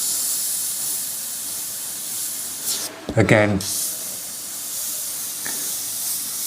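Steady hiss of a Gaahleri Mobius 0.2mm airbrush spraying black paint onto paper, a smooth continuous spray broken by a brief pause where a voice speaks.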